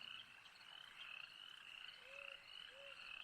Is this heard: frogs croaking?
yes